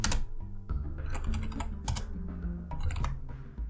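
Fast typing on a computer keyboard while entering a Linux command, crisp key clicks in quick uneven bursts close to the microphone, with no talking.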